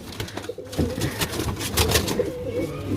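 Several pigeons, a mated pair among them, coo in low, overlapping murmurs amid flapping and shuffling, with a faint voice in the background.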